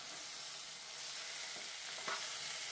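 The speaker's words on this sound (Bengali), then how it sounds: "এটা একটু সাতলাইতে লাগবো, একটু টাইম লাগবে সাতলাইতে, কারণ এটা তো পুরো সিদ্ধ।" Boiled eggs sautéing in a pan for Bengali-style egg curry give a steady, fairly quiet sizzle throughout, with a brief stir near the end.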